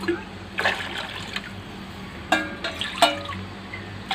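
Water poured into a curd and lentil kadhi mixture in a cooking pot, heard as a few short splashing pours and trickles at close range, with faint kitchen background between them.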